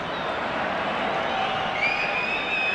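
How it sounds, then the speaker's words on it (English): A stadium crowd at the 1982 Finland versus England friendly makes a steady, distant roar of encouragement, a broad wash of noise with a few whistles rising near the end. "Jyrki Nieminen being encouraged by the crowd to quicken the tempo"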